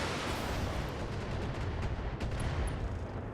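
Missiles raining onto a Hunchback mech in the tactics game BattleTech, a dense, rumbling barrage of overlapping impacts and blasts sustained throughout at moderate loudness.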